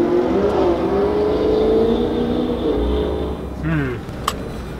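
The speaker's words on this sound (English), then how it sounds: "the Baby Raptor just got a whole lot louder because, well, he took off the exhaust" A Ford Raptor pickup running with its exhaust removed revs loudly, a sustained rising engine drone with a brief sharp blip near the end, passing close by.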